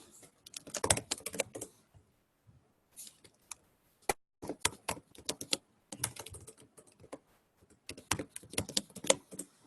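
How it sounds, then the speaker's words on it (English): Rapid clicking keystrokes on a computer keyboard come in bursts separated by short pauses, close and fairly quiet with no voices. "Pardon me while I'm just typing up a little bit"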